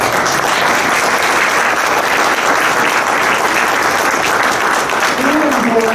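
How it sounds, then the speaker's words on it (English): Sustained, close applause from a symposium audience continues evenly throughout, with a voice faintly audible under the clapping. "can we please give Carol a round of applause?"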